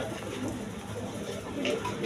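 Pigeons of several breeds, including Danish pigeons, coo softly in a loft or market setting, low murmuring calls running continuously beneath a person speaking nearby.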